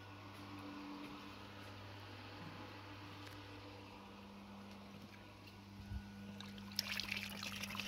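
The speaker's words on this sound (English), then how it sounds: "its first job is now to pump the remaining rainwater out of the old water barrel into" A Gardena pump drones steadily while pumping leftover rainwater out of an old water barrel into tubs, its low hum joined by faint trickling water and a few brief clatters near the end.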